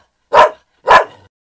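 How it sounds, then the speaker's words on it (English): A dog barks twice at close range, two short sharp woofs about half a second apart, clear and alone with no other sound. "I think Filbert is barking to say hello."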